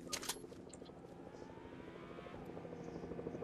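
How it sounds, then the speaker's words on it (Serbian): A helicopter flies in the video game Fortnite, its rotor chopping in a steady, faint drone with a few sharp clicks near the start and no voices over it. "Helikoptero"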